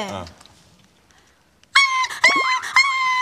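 After a brief voice, someone yelps in high, sharp squeals, imitating a small puppy crying out in pain, a few quick bursts up close.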